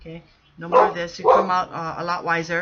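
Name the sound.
dogs barking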